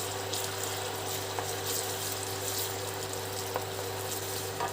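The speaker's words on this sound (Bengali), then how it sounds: "আমি বাকি জলটুকু অ্যাড করে দিলাম মশলা বাটিটা ধুয়ে।" Water from rinsing a spice bowl is poured into a light curry of pointed gourd (tel potol) simmering in a pot, giving a soft, steady pouring and trickling rush that runs for several seconds, low in level, with no talking.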